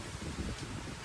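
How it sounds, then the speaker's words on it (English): Strong gusting wind rushes through leaves outdoors ahead of an approaching rain band, a steady broadband roar that swells and eases in a brief burst. "We are looking at windy conditions right now."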